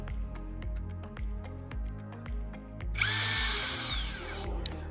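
A power drill drives a screw to fix a floor panel during scooter assembly, a close steady whirring with rhythmic pulses, followed by a louder high-pitched whine as the screw tightens.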